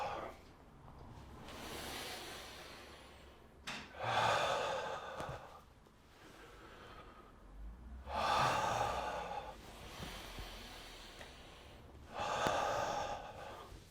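Heavy breathing during a cardio workout, slow deep inhales and forceful exhales repeating roughly every four seconds, close and fairly quiet.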